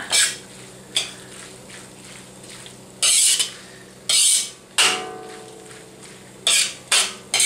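Black fungus and tofu cooking in a pan, with repeated bursts of sizzling and frying scrapes as the food is stirred, broken by short quieter gaps.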